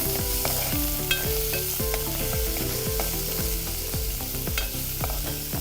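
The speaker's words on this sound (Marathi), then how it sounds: "कांदाही आपल्याला जराशी गुलाबी होईपर्यंत परतून घ्यायचा आहे" Onion and garlic sautéing in a pan until pinkish, a loud steady sizzle under a regular rhythm of repeated spatula strokes scraping and knocking against the pan.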